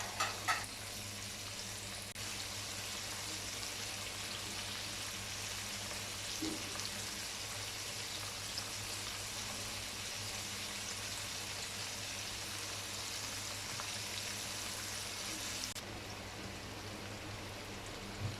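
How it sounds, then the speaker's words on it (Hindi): Chicken popcorn pieces fry in oil until golden, giving a dense, even, continuous sizzle and bubbling hiss that holds steady throughout, close up with no talk over it. "अब इनको दोनों साइड से गोल्डन होने तक पकाएंगे।"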